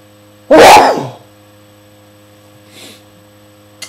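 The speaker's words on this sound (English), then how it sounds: "Excuse me, I have to sneeze." A single loud, sharp sneeze bursts out close by, followed by quiet with a faint breathy sound and a low electrical hum underneath.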